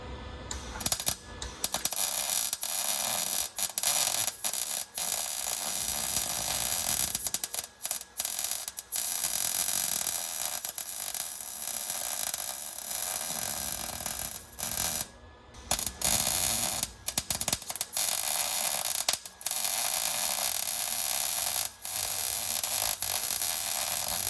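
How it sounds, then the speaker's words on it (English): A welder zapping a shock mount underneath a budget Suburban sport truck, heard as a close, steady crackling buzz that runs in long bursts broken by short pauses, with no talking. "give it a little zap with the welder and see what happens"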